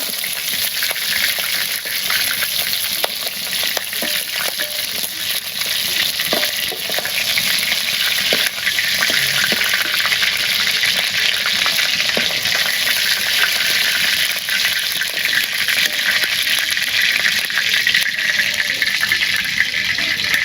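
Loud, steady sizzling of meat frying in hot oil, with occasional stirring scrapes and crackles throughout, no voices.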